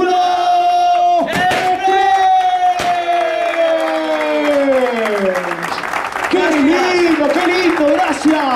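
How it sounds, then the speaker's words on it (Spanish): A crowd cheers, whoops and shouts over applause at a Carrefour store inauguration, with loud sustained voices and some gliding shouts rising above the clapping throughout. "¡Fuerte el aplauso!"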